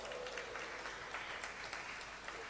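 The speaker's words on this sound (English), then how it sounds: "Give yourselves a round of applause." Audience applause at an annual church lecture series, a faint, steady wash of clapping from a seated crowd lasting a couple of seconds.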